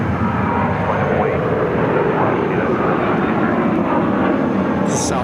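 Southwest Airlines jet airliner at Phoenix airport, heading for San Diego, producing a loud, continuous engine roar that fills the whole stretch at a steady level.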